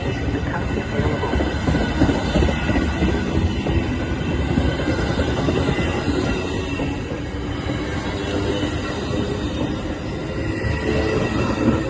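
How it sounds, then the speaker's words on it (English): A Metra commuter train on the Milwaukee District West line rolls into Roselle station, with steady loud rumbling of railcars, wheel clatter and high metallic squeals from the wheels as it arrives. "Milwaukee West Main Line train number 2244 to Chicago Union Station is now arriving."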